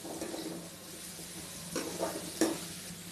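Two large onions sautéing in a pan for a prawn gravy, giving a soft steady sizzle with a few light scrapes and stirs of a spoon against the pan, fairly quiet and close.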